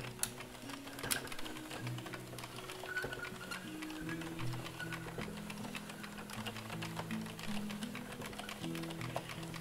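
An Addi circular knitting loom is cranked by hand, giving a busy run of rapid plastic clicks and ticks with shifting low rattling tones, steady and fairly quiet throughout without speech.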